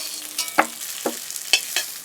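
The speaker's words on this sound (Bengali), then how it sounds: "এবার আমি আলুগুলোও ভেজে নেব।" Potato pieces fry in oil in a pan, with faint sizzling broken by a few quick scraping stirs spaced out over two seconds.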